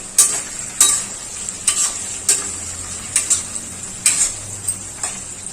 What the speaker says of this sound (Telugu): పోపును బాగా వేగనివ్వాలండి.